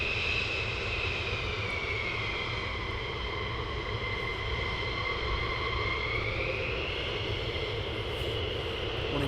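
F-15 or F-35 military jet taxiing at RAF Lakenheath during night flying, a steady loud whining roar with a shifting high-pitched tone that holds throughout at close range.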